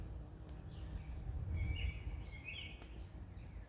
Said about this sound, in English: We have a lot of birds, obviously.